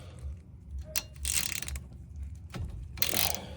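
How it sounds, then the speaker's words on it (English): 14mm socket wrench loosening a brake caliper bolt on a 2022 Hyundai Tucson: a few short ratcheting clicks and scrapes, close and fairly quiet over a low background hum. "You can use a 14mm socket or wrench."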